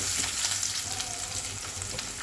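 Curry leaves and ginger garlic paste frying in a pan of oil for an Andhra ridge gourd and chana dal curry, a loud steady sizzle filling the whole moment with no voices.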